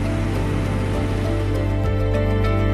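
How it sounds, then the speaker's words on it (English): Heavy rain falling at night in Venice, Italy, a steady dense wash of patter and splashing that stays loud and even throughout, with a low constant rumble underneath and no voices. "Italy is raining heavily tonight."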